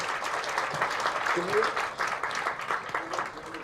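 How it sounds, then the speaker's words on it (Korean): An audience at a lecture during a prayer meeting for peaceful North–South Korean reunification claps steadily at moderate loudness, while a voice briefly talks over the applause. "박수를 한번 크게 한번 격려하겠습니다"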